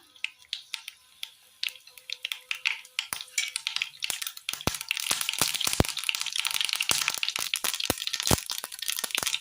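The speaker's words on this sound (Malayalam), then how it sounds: "എണ്ണയിലേക്ക് കടുകിട്ട് കൊടുക്കാം." Mustard seeds splutter in hot oil in a pan, sparse sharp pops at first building into a dense, rapid crackle of close, loud snaps.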